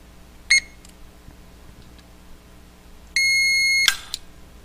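Two electronic beeps from a Protex LC Series safe fingerprint scanner: a short high tone near the start, then a longer sustained beep about three seconds later, in a quiet room.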